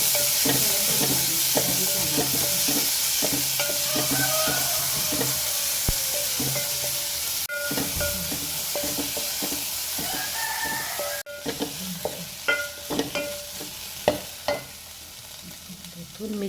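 Onion frying in hot oil with cumin in a Goan home kitchen: a constant close sizzle with repeated spoon clatters and scraping as it is stirred, and faint background sounds that may be a rooster.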